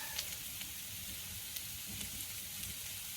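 Beef steaks sizzling in a pan on a camp stove outdoors, a steady, close, crackling hiss with occasional small pops and spits, no talking.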